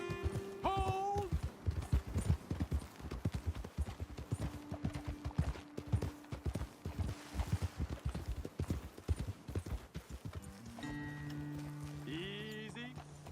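Steady clip-clop of hooves on hard ground with a horse snorting in Red Dead Redemption 2, set against game music and ambience, a brief musical sting opening and closing the passage.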